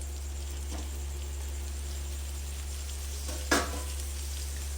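Fried eggplant is added to a pan with poppy seed paste, frying with a steady, even sizzle and a single short clink partway through. No voices.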